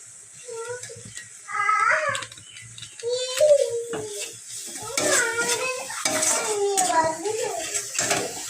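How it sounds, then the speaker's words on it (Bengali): A spoon stirs spice masala with Kashmiri chilli powder as it fries in oil in a pan, giving scraping stirs and a soft sizzle in bursts, with a voice talking over the cooking. "এক চামচ দিয়ে ভালো করে এটাকে কষাবো ভালো করে কষিয়ে নেব মশলাটা"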